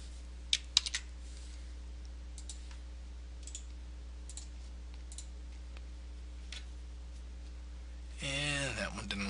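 Computer keyboard typing while deleting a rejected coupon code at a domain checkout, a few quick faint clicks early then sparse taps over a steady electrical hum, ending in a louder whooshing burst.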